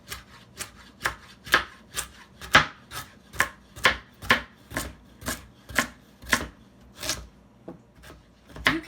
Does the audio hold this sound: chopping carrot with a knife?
yes